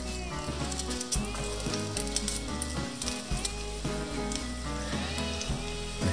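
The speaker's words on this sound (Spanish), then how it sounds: "vamos a añadir un chorrito de aceite que se vaya calentando y nuestro diente de ajo" A garlic clove frying in a little hot oil at the bottom of a pot, a soft, steady sizzle sitting quietly beneath prominent music.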